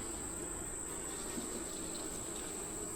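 Honey bees buzz steadily at an open beehive during a frame inspection, a dense, continuous close drone with a thin high whine running throughout.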